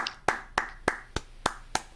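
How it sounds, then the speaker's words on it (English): Hands clapping in a slow, steady rhythm, six sharp claps spaced evenly and close by, with no talk between them. "I am clapping for freedom."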